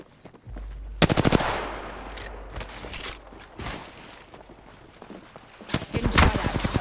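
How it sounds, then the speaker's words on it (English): Rapid bursts of automatic gunfire from a shooter game character in Apex Legends, with loud rattling volleys near the start and end, quieter game noise between them, and brief snatches of in-game voice. "Opening fire."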